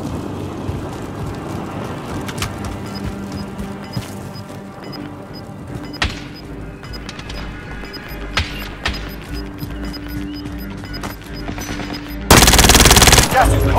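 Gunfire in Call of Duty: scattered sharp shots and short bursts, some near and some distant, over wind and ambient battle noise, ending in a sudden loud roar of noise.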